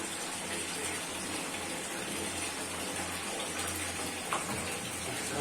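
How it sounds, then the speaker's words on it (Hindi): Water poured from a tap over a milk bottle to wash it, a steady faint splashing gush under kitchen room noise, with no talking. "इससे थोड़ा सा पानी ऊपर से डाल देंगे नीचे"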